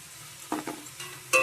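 Ground cumin paste fries in a pan after onion and garlic paste, with a low sizzle under a few quick scrapes and clatters from stirring.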